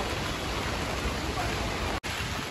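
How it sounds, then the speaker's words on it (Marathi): Heavy monsoon rain pours steadily in Lonavala as a dense, loud, continuous wash close by, with one brief near-silent dropout near the end. "खूप बेकार पाऊस आहे. बेकार. खूप जोरात."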